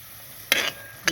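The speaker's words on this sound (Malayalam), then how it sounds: "ഇനി നമുക്ക് മീനിട്ട് കൊടുക്കാം" Sardines dropping into a simmering jackfruit seed curry in a pan give a sudden close sizzling splash that fades within a fraction of a second, then a second brief burst follows.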